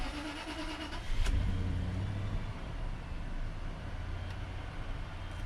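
A 2006 Land Rover LR3 engine cranks and catches, a short starter whir followed by a low, steady idle rumble that carries on evenly, close and fairly quiet.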